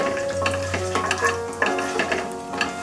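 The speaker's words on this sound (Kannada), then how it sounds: "ಎಣ್ಣೆ ಕಾದ್ಮೇಲೆ ಚಕ್ಕೆ, ಲವಂಗ ಮತ್ತು ಪಲಾವ್ ಎಲೆ ಸ್ವಲ್ಪ ಫ್ರೈ ಮಾಡ್ಕೊಳ್ತಾ ಇದ್ದೀನಿ" Cinnamon, cloves and bay leaf fry in hot oil for a veg soya pulao, giving a steady close sizzle with light stirring scrapes in the pan and no talking.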